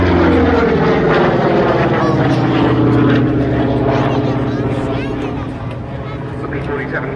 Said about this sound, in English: the P-47 going through its paces